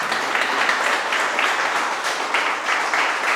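A church congregation claps together in a loud, fairly rhythmic burst of applause that holds steady for a few seconds, with no talk over it.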